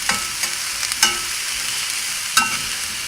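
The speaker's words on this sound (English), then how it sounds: "Using a metal spatula, I'm going to mix all 3 together." Onion, shallot and garlic stirred with a metal spatula in a pan, giving a steady soft sizzle broken by a few sharp scrapes and clinks of metal against the pan, close and clear with no talking.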